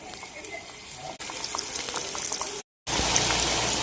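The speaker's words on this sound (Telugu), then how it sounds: "ఇప్పుడు మన ఆయిల్ మీడియం హీట్లో ఉన్నప్పుడే మనం రెడీ చేసుకున్న పాప్స్ ఉన్నాయి కదా, ఇవి ఒక్కొక్కటిగా ఇందులో వేసుకుందాం" Chicken lollipops dropped into medium-hot oil for deep frying, a dense hissing bubble that swells after a soft opening, briefly cutting out before resuming louder, close by with faint talk in the background.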